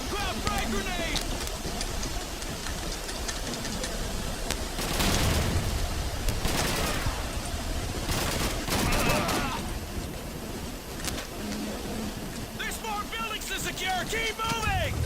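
Rapid hip-fired gunfire in a video game, bursts of shots running through much of the stretch and peaking in dense volleys near the middle, with a voice talking over the shooting.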